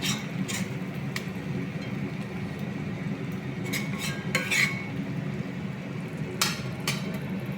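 A spoon stirring egg roast masala in a pan, scraping and clinking against the metal with a few sharp taps over a soft background hiss, close and steady.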